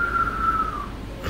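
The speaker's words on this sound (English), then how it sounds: "That's what it sounds like when I whistle." A single thin, steady whistle holds one pitch for under a second, close and fairly loud, then breaks off into a short breathy puff.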